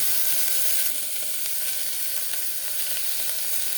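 A loud, even sizzle of tomato, garlic and green chilli sautéing with salt in a pan runs throughout, a dense hiss with faint stirring scrapes and no talk.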